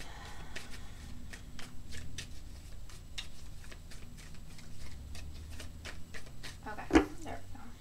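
A Gilded Tarot Royale tarot deck is shuffled in a steady run of crisp, rhythmic card riffles and taps, close and fairly quiet, ending with one louder snap of cards near the end.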